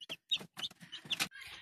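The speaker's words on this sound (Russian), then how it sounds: "Вот так, ребята, наши цыплятки растут." Young chicks and chickens cluck and peep in short, close bursts, a quick run of bright chirps separated by brief silences.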